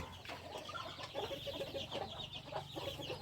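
Farm chickens cluck at a distance, soft repeated clucks and murmurs overlapping in an irregular rhythm over low background hum, with no talking.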